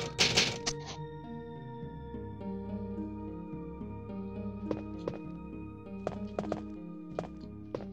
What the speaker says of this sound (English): Love those typewriter sounds.